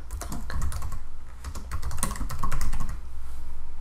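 Search terms go into a computer on a keyboard in quick, uneven bursts of close, crisp key clicks, with brief pauses between words and no talking.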